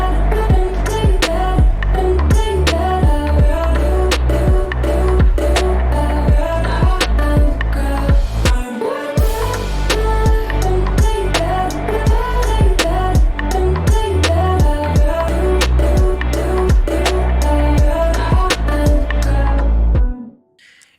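Electronic track built on pitched vocal chops in a signature style, bright chopped syllables riding over full, dense synths and bass that play continuously before cutting off abruptly at the end.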